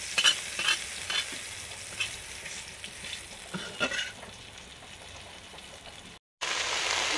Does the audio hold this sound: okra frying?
yes